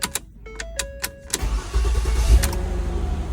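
A Ford Escape with a faulty ignition switch cranks and catches, with chime tones at first, then the engine turns over and rumbles into a steady run, close and fairly loud.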